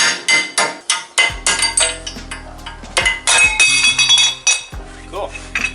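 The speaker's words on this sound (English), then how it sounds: "Just gotta take a little chisel to it." Sharp metal-on-metal hammer strikes on a chisel knock the small cap off a drilled and slotted brake rotor, a quick series of loud ringing clinks at close range with short pauses between blows.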